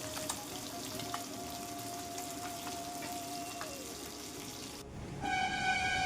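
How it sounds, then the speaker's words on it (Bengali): Bhola fish fries in a pan with a steady, hissing sizzle at moderate distance, joined by faint clinks and a running-water-like wash, then a tonal hum rises near the end. "মাছ ভাজা হচ্ছে, ভোলা মাছ এনেছে"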